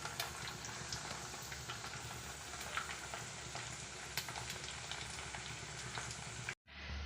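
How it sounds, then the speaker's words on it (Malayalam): Rava vada frying in hot oil while being turned, giving a steady, continuous crackling sizzle with scattered sharper pops and a brief drop to silence near the end. "ഇങ്ങനെ നമുക്ക് തിരിച്ചും മറിച്ചും ഇട്ട് ഫ്രൈ ചെയ്തെടുക്കാം."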